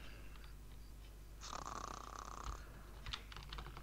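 Characters snoring in The Sims 2 life-simulation game, one drawn-out buzzing snore in the middle over quiet game ambience, followed by a few faint clicks.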